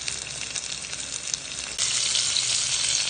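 Tofu frying in a pan, a steady broadband sizzle that grows louder and brighter about halfway through, close and continuous with no talk.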